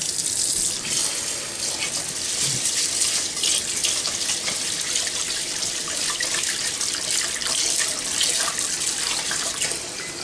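Cold tap water runs steadily from a faucet into a bowl to rinse Japanese rice, a close, continuous splashing hiss that stays at an even level throughout with no voices.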